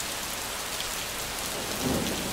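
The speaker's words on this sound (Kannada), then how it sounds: "ಬೆಳಗಾವಿ ಮತ್ತು ಚಿಕ್ಕೋಡಿ ಭಾಗದಲ್ಲಿ ಭಾರೀ ಮಳೆ ಸುರಿದಿದೆ" Heavy late-night rain pours steadily in the Belagavi and Chikkodi area, a dense continuous hiss with a low thunder rumble swelling near the end.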